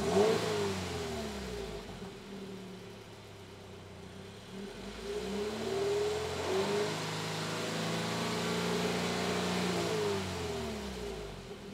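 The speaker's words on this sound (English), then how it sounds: "we are going to get the sounds of the OEM exhaust system with our decibel reader" Toyota GR86 / Subaru BRZ (2022+) on its stock OEM exhaust revs repeatedly, rising and falling through several throttle blips over a mid-pitched idle, close and clear, with no voices.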